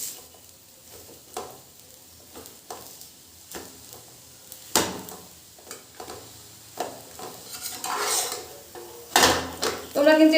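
Fried fish roe is cut into pieces in the pan, producing scattered soft knocks and scrapes of a utensil against the pan, with sharper clatters toward the end and a faint sizzle in between.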